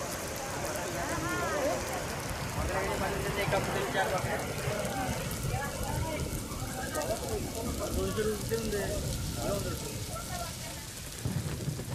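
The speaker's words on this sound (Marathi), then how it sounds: "या ठिकाणी मुसळधार पाऊस बरसतोय" Heavy monsoon rain pours in a steady roar on the Chandrapur–Tadoba road near a flooding stream, while a voice talks over it throughout.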